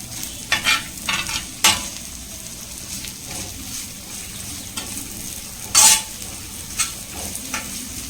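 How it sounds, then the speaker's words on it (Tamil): Onion sizzles on a dosa pan over the flame, a steady frying hiss broken by repeated scraping and clinking spatula strokes, with one loud metallic scrape near the end; close and fairly loud. "இந்த வெங்காயம் நல்லா முருகலாகிற அளவுக்கு நம்ம இதை வந்து வதக்கணுங்க"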